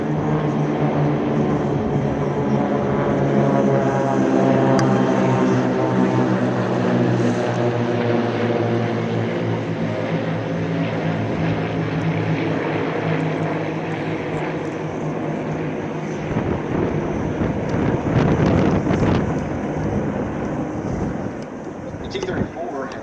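T-34 propeller warbird flying at the Oshkosh airshow, a loud continuous piston-engine drone with a shifting pitch as it passes, while someone talks over it.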